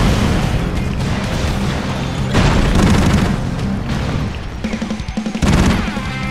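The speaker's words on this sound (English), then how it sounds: "that's the terror cannon! It shoots people out at us" Terror cannon firing in the Broforce video game, heavy booming blasts and crashes layered with rapid gunfire-like bursts, loud and continuous with several distinct impacts.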